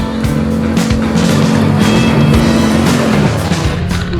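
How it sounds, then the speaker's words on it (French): Polaris Sportsman 1000 XP S ATV with a twin-cylinder engine driving close by, its loud revving tone rising and falling steadily for a few seconds with no talk over it. "on se retrouve pour l'essai du Sportsman 1000 XP S"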